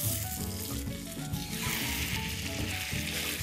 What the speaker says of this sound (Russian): Сейчас мы переходим к обжариванию курицы.